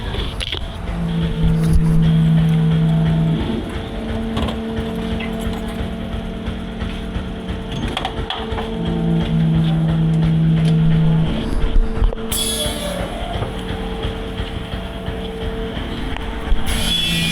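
A CNG auto rickshaw engine idles steadily at a fuel pump, a low, even drone with periodic stronger pulses and a brief higher hiss near the end, with no talk over it.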